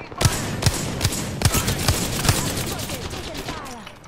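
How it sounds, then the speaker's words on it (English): Gunfire in Apex Legends: a string of sharp, evenly spaced shots over about two seconds, then a denser rattle that fades, with voices talking over it. "there's one shooting at me"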